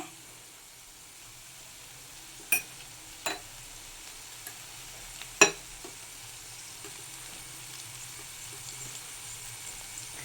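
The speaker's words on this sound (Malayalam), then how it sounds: "കുറച്ച് വെളുത്തുള്ളി ഇഞ്ചിയും പേസ്റ്റും കൂടി ഇട്ടിട്ട് നന്നായിട്ട് വഴറ്റുക." Ginger garlic paste, green chillies and tomato sautéing in a pan: a faint, steady sizzle punctuated by a few sharp scraping clicks of stirring, quiet and without speech.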